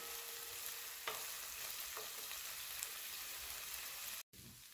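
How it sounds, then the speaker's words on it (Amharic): Chopped cabbage (gomen) tips into a hot pan and fries with a steady, close hissing sizzle, with a few small clinks of stirring and a brief cut near the end. "አሁን ጎመኑን የከተፍኩትን ጎመን እጨምረዋለሁ።"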